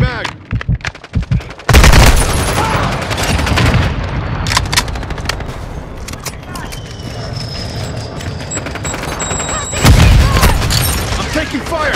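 Call of Duty: Modern Warfare II gunfire crackles in rapid bursts, with loud, dense automatic fire at the start and again near the end, sharp single cracks and a sustained rumble between, and shouted voices mixed in.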